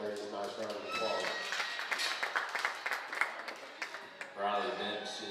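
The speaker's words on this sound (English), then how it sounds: "let's give both those young ladies a nice round of applause" Audience applause at a county livestock show, scattered hand claps rising under an announcer's amplified voice and running for several seconds before easing off.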